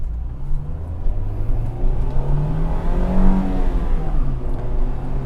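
A car engine revving steadily while slowing down with rev matching and heel-and-toe downshifting, a loud continuous drone with rising and falling pitch, heard from inside the car.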